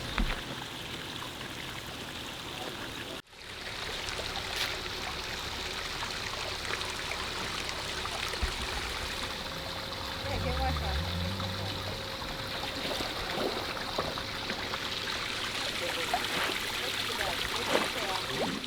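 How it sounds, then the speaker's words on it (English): Water from a hose runs steadily into a backyard pool outdoors, a soft continuous trickling stream heard throughout, broken only by a brief handling bump early on. "Gotta put some water in the pool."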